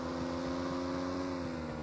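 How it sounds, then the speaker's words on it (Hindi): A motorbike engine in the mobile game BGMI drones as a steady, low humming tone, faint and continuous with no talk. "यहाँ पे मुझे बाइक की आवाज़ आती है,"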